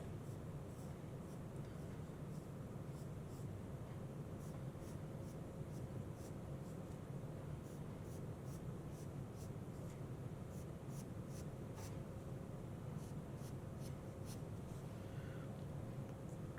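A pencil scratches lightly across paper in a steady series of short strokes, faint and close, over a constant low background hum.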